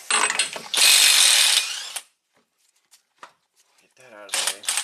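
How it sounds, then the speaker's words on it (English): A ratchet is used to remove the axle nut on a Buick Enclave during hub work. It gives a loud burst of rapid clicking, then a few faint taps, and a second burst at the end. "Now we can remove the axle nut."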